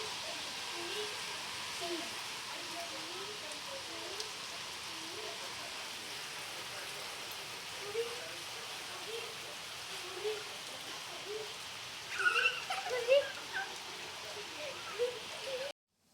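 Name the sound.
heavy rain falling outside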